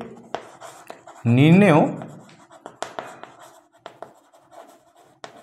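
A pen or chalk writes out an answer during a math lesson: brief scratchy strokes and taps, close by, around and after a short spoken word.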